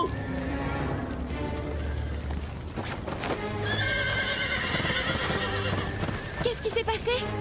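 Cartoon horses whinny and neigh while hooves clop during a barn fire alarm, loud and close, with music and voices mixed underneath.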